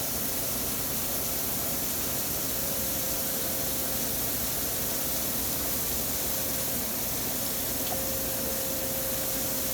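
Coolant sprays steadily through a lathe coolant ball, a constant soft hiss of moderate level with no talk, unbroken for about ten seconds.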